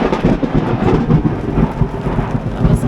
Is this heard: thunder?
yes